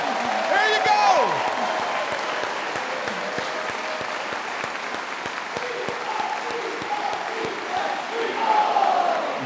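A large audience applauds loudly and steadily at a live evening event with a former NFL player, a dense crowd clatter over amplified talk and a few whoops near the start.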